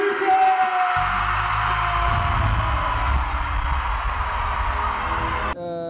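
Loud crowd at a concert cheers, whoops and yells with applause mixed in, a steady roar that continues throughout before cutting off near the end, where a voice begins.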